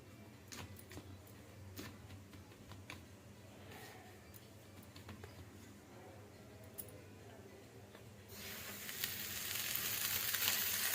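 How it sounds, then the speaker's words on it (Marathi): Bombay duck fish coated in rice flour fry on a hot griddle with a quiet, crackling sizzle and scattered ticks, swelling into a louder, denser sizzle toward the end. "बोंबील या पिठा तांदळाच्या पिठामध्ये मिक्स करून व्यवस्थित तव्यावरती फ्राय करणार आहोत"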